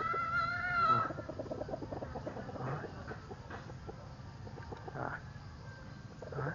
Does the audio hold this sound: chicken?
yes